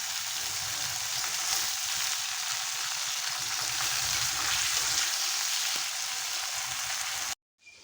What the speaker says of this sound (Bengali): আলুটা আগে তুমি লাল করে ভেজে নেবে